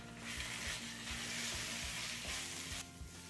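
Red chilli, coriander and cumin powders sautéing with onions in a pan, a faint continuous sizzle with low, regular stirring thumps, heard alone.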